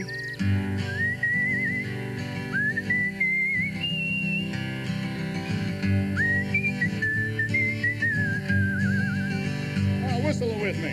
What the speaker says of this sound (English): Whistle it with me.